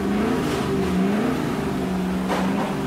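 Chevrolet Camaro V8 with a sport exhaust running with a steady, loud engine drone that rises and falls slightly in pitch, with a brief surge of roughness near the end; no talking.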